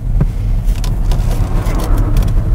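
A Ford Focus driving past on a road, heard as a steady low rumble of engine and tyre noise from a nearby moving car, with no talking over it.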